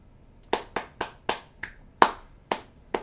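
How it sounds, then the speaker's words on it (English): A single person's hands clapping eight times in a slightly uneven rhythm, crisp and close in a quiet room, with no talking. "Round of applause to Oda."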